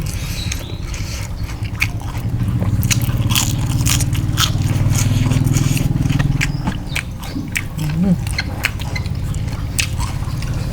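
Crispy grilled squid tentacles on a skewer are bitten and chewed close up, giving repeated crunchy, crackling bites and wet chewing over a steady background hum.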